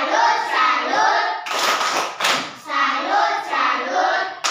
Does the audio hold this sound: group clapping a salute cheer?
yes